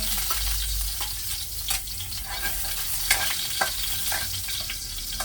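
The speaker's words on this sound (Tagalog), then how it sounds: "Maggigisa na tayo. Ito na yung bawang." Garlic sizzles and fries in a pan while being stirred for a vegetable sauté, a steady crackling hiss with occasional scraping clicks of the utensil.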